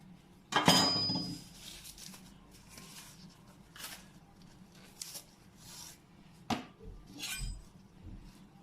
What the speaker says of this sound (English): Now so I dey cut my plantain